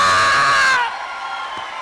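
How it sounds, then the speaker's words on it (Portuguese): A church congregation at a Portuguese-language sermon bursts into loud cheering and whooping, with a sustained shout that cuts off abruptly, leaving a quieter murmur of the crowd behind. "Aplauda a poderosa palavra!"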